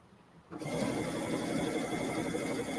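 A sewing machine topstitches the waistband seam of a pair of kids' boardshorts, starting abruptly after a brief quiet moment and then running in a steady, close, continuous whir.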